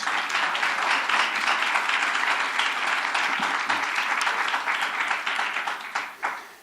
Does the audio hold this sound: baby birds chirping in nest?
no